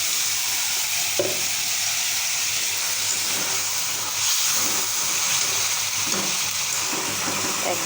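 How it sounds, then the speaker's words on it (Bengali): Spice paste sautés in a pan with a little water, a loud, dense, continuous sizzle and hiss with occasional stirring scrapes, close up and steady throughout. "এখানে মশলাটা একটু পানি দিয়ে কষিয়ে নেব।"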